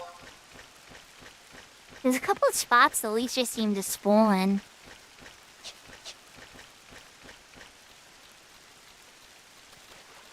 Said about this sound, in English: You hear the rain and the bats flapping their wings.